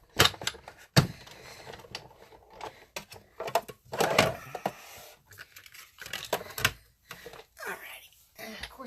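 Scissors cutting a paper rectangle for a stamping project, heard as a series of short crisp snips and paper rustles at close range, mixed with intermittent talk.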